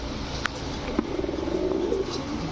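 White pigeons in a loft cooing, a soft, low, rolling coo running through the middle of the clip, with a few sharp clicks and faint chirps around it.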